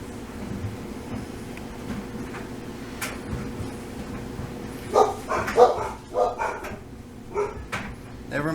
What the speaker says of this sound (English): Never mind the doggies.